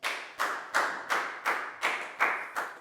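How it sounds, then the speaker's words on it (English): Children in a Year 4 maths classroom clap for a classmate in slow, unison rhythm, about eight sharp, evenly spaced claps close by, each ringing briefly in the room with no talk over them. "High five and a big round of applause for Nadia, please, guys."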